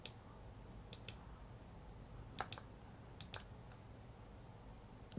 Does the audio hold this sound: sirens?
no